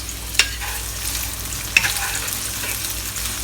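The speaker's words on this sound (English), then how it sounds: "At medium-low heat, we'll fry the shallots." Thinly sliced shallots fry in a pan over medium-low heat, giving a steady close sizzle that runs throughout, broken by a couple of sharp pops.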